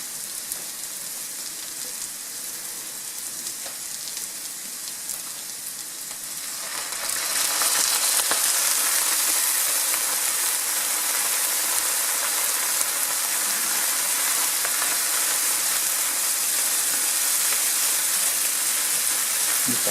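Onion stewing with a little water in a pan while making a potato, swede and carrot purée: a steady close sizzle and bubbling that grows noticeably louder and hissier partway through, then holds constant with no voices.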